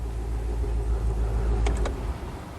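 Classic car engine running smoothly at idle after startup, a steady close low rumble with a faint ticking from the top of the engine and a brief light clicking partway through.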